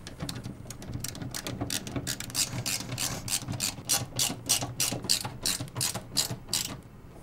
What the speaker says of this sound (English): Secure the power supply with the provided screws.